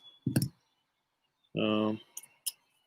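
Dice rattle in a cup during an APBA tabletop baseball game, heard as a few short, dry clicking bursts with quiet pauses and a brief voiced sound between them.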